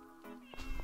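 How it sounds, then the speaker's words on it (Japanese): A cat meows in the farming video game Story of Seasons, giving a few short, quiet meows over a soft steady game background tone. "いいよね猫。"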